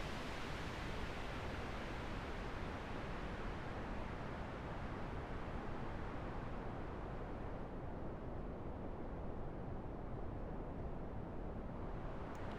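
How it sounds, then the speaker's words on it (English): Pink noise runs through a high-cut filter on a Behringer Wing digital mixer, a steady, loud hiss with the top end rolled off and growing duller over time. "this is what it sounds like on pink noise. You'll notice a lot more prominent cut of the high end"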